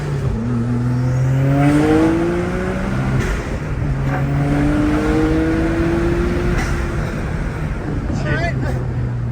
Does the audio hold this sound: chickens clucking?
no